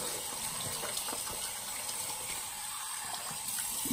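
Running water splashing steadily from a tap while a face mask is rinsed off, a close, continuous gushing with small irregular spatters throughout, no voices.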